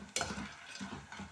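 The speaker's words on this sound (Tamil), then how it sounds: "இதை மிக்ஸ் பண்ணும்போது ஒரு மாதிரி கரகரன்னு சவுண்டு வரும்." Banana chips crackle and sizzle in hot frying oil while being stirred, giving a dense, close, continuous crunchy rustle with a few sharper scraping strokes and no talking.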